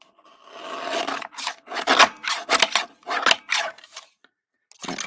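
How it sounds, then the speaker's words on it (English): Paper for card making is cut with a trimmer, producing a close series of dry rasping slicing strokes, each short and scratchy, with brief pauses between them. "And then I'm just going to trim off this side just a hair."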